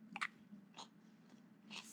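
A few quiet crunchy bites and chews on the crispy breading of chicken coated in NicNac's, with soft irregular crunches close to the mic and no talking.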